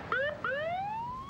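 An ambulance siren sounds in two rising wails, the first short and the second stretching longer, moderately loud and heard alone.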